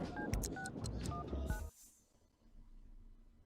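A phone being dialed in The Sims 3, a quick series of electronic keypad tones over game background sound for about a second and a half, then a quiet pause.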